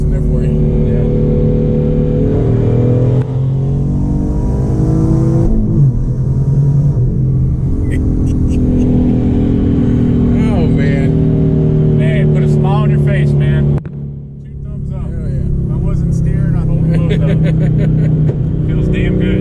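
A twin-turbo V6 car with added exhaust pops pulls hard through the gears, its engine note rising and falling loud and close, with a voice talking over the rumble.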